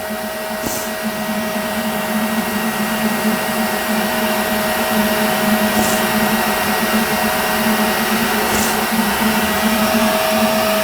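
Qidi X Max 3 3D printer running a print job, a steady close whirring hum with a constant tonal whine and a few faint brief chirps from the moving toolhead, no voices.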